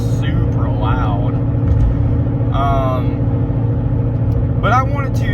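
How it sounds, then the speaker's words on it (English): Loud, steady low rumble of a car engine heard from inside the cabin, droning continuously while a person talks over it. "my car for some reason just sounds super loud"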